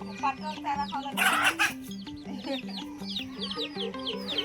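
Desi free-range hens on a poultry farm in Nagpur cluck in quick, repeated bursts close by, several birds overlapping, with a brief louder flurry and some talk in the background.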